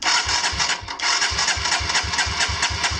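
Kawasaki KLX170 dirt bike engine cranked over with the throttle held open during a compression test, a fast rhythmic chugging of starter and compression pulses, close and loud, with a brief pause near the start.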